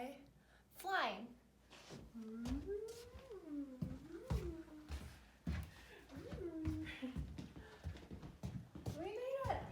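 Children mimic a cat indoors at a preschool circle time, producing a run of rising and falling meow-like vocal glides that repeat through the stretch, close and fairly loud.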